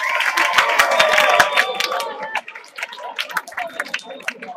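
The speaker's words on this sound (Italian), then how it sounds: "accogliamoli con un applauso" A crowd at a school peace event gives bright, dense applause and cheering to welcome a school group, clapping loudly for about two seconds before thinning into scattered claps and voices.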